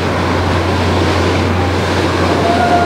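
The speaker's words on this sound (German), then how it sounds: "Das ist tatsächlich so eine Art Bus auf dem Wasser." A water bus boat passes close by on the water, giving a steady, loud low engine drone with a continuous wash of water around it and no voices.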